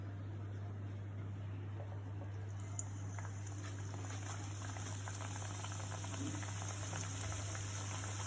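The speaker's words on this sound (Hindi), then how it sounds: "अब इसे फ्राई करते हैं।" Spring rolls fry in hot oil over a low flame, a steady, close bubbling sizzle with fine crackling pops that continues unbroken, with no talk.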